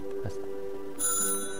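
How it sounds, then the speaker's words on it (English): A public phone rings inside the puzzle adventure game Lost in Play, a short electronic trill over faint game ambience with a brief brighter burst near the end. "A public phone."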